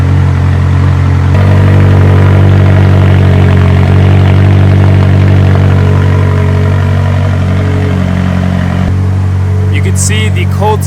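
McLaren MSO X engine idling after a cold start, a loud, steady low rumble with a slight shift in pitch partway through.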